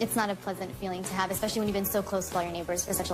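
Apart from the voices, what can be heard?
No everyday noise stands out behind the speech.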